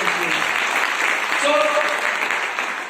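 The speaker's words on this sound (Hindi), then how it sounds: "तो ऐसे मिडिल क्लास फैमिली वालों के लिए बात जोरदार दिल से ताली बजाइए" Crowd applause at a Modicare success-story gathering, a continuous wash of clapping from a large audience with voices mixed in underneath.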